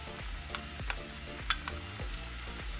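Onion with ginger garlic paste fries in a pan, a constant soft sizzle overlaid by a regular series of scraping stirs, heard close and moderately quiet.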